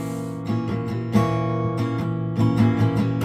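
A sustained tense diminished chord rings out on a keyboard, struck again a few times with the same dissonant, unsettled quality, alone without voices.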